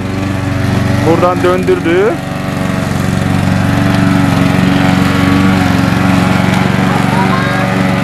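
A lawn mower runs steadily on a grass lawn, its droning engine loud and continuous throughout, while a child and an adult talk over it.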